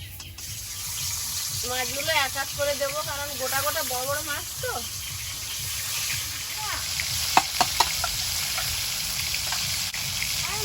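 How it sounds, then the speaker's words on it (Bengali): Fish fry in oil in a wok, giving a steady hiss of sizzling throughout, while voices talk over it and a few sharp clicks sound near the end. "কড়াই তেল দিয়ে দেবো মাছগুলো ভেজে নেবো"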